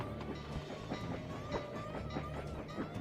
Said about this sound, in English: At least there's, like, a very clear sound effect for the train coming.